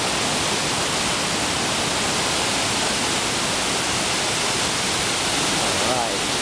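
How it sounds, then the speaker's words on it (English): Steady, roaring rush of a large gorge waterfall in the Finger Lakes filling the whole clip, broadband and constant, with faint voices underneath near the end. "I'm assuming these are the main falls."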